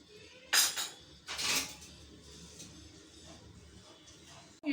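Sambhar powder is stirred into Vathal Kuzhambu in a pot, heard as two brief, close clattering scrapes of a spoon on metal, followed by a quieter stretch of faint clinks.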